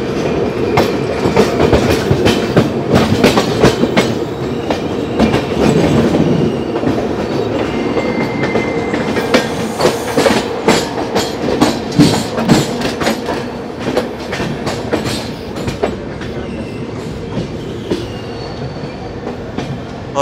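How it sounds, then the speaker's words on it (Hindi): Parcel van train rolling past on the Nagpur line near Itarsi Junction, with steady rumble and repeated clickety-clack of wheels over rail joints, loud and close, running continuously throughout. "ये पार्सल वैन जा रही है नागपुर वाली लाइन पे,"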